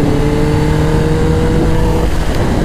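A Kawasaki ZX10R motorcycle and a scooter rev hard during a road drag race, a loud, close, continuous engine roar with steady tone and wind rush, no voices heard.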